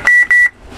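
A Stryker SR-447HPC CB radio gives a short roger beep, two quick steady electronic tones close together, loud and clean, followed by faint static.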